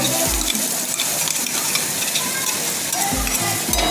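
Masala for a Malvani-style fish curry fries loudly in a pan, a dense close sizzle with clattering stirring and a few low knocks of the utensil against the pan, no voices.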